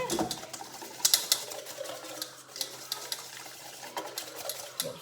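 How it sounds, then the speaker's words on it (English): A whisk clicking and swishing quickly against a small container while mixing a creamy homemade natural deodorant, soft, close and steady rhythmic tapping with no speech. "I've just whisked that up so it's nice and smooth and it's just all creamy"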